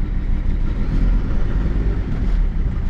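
A car engine runs steadily while driving on a test drive, with a low, constant rumble close to the listener and no talk over it.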